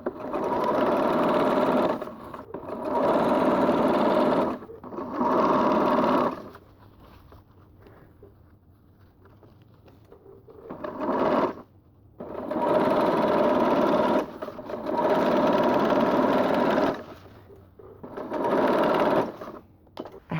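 A sewing machine stitches fabric around its free arm, running in steady bursts of a few seconds each. Each loud, even mechanical hum is broken by short pauses.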